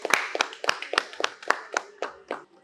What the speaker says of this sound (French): Là, ça s'applaudit.